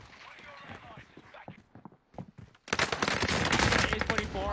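Rapid bursts of Blixen gunfire in a video game, sparse shots at first and then a loud sustained stream of fire, with someone talking over the opening part.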